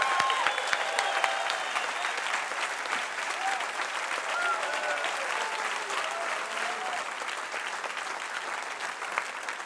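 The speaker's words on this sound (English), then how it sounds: "We need to give him a round of applause." Steady, dense applause from a live audience at an old-time string band concert greeting a fiddler, moderately loud and sustained throughout, with faint whoops and voices scattered in the crowd.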